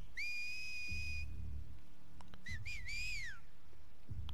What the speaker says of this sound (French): Ça va être un sifflement puisqu'il me voit pas.